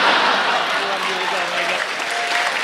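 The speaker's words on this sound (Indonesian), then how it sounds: "Tepuk tangan buat Didi" Indoor audience at a stand-up comedy show applauds continuously, steady dense clapping throughout, with voices mixed in.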